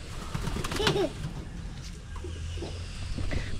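Young pigeons coo softly and flap their wings nearby in a loft, giving a brief rising warble, low murmuring and light rustles against faint background noise.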